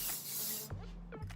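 Sebastian Professional Shaper Plus hairspray hisses in one loud, close burst from an aerosol can onto the top of a lace frontal wig, then cuts off, followed by faint handling noises.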